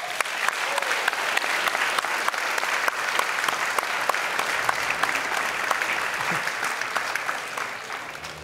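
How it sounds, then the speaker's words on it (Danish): A studio audience claps continuously and loudly for over eight seconds, a dense, even patter of many hands with a few sharper claps standing out and no pause. "Klapp de inn, folkens."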